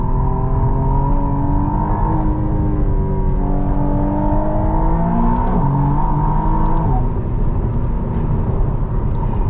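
The twin-turbo engine of a 2025 McLaren Artura Spider drones loudly and steadily from inside while driving, its pitch rising and shifting through gear changes with a continuous rumbling whir.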